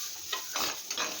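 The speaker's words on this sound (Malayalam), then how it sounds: "കൂട്ടിട്ട് ഒന്ന് നന്നായിട്ട് ഇളക്കുക" Spice mix for jackfruit thoran being stirred in a pan, with three or four scraping strokes sizzling lightly, close and alone.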